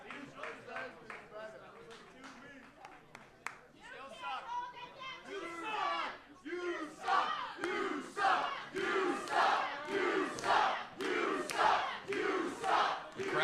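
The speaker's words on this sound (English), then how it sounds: "Crowd certainly unrelenting here toward Wonderboy Brian Morris" A wrestling crowd loudly jeers Wonderboy Brian Morris during a gauntlet match, with rhythmic chanting and shouting that swells and pulses steadily throughout.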